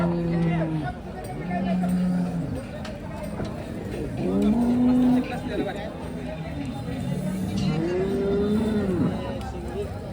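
Cattle at a cow market in Sangola low in long, deep calls, several repeated through the clip, close and fairly loud, with people talking nearby throughout.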